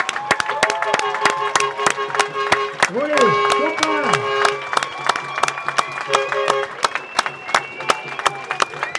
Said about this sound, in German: Ein Applaus für den Roland Adelboller